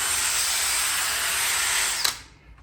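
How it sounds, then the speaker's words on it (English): A power drill with a scrubbing brush works cleaning product into a floor mat, a steady loud whir that holds for about two seconds before cutting off abruptly. "go over it again with the drill."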